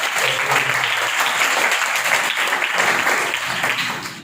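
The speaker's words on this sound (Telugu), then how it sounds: "చప్పట్ల గట్టిగా" A church congregation applauds loudly, dense sustained clapping from a crowd that stays strong throughout and tapers slightly at the end.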